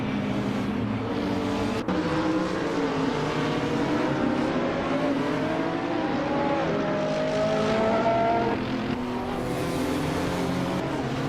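Race cars in a racing video game battling closely for position, a continuous layered engine drone with pitch shifts as cars rev and pass, loud and steady throughout.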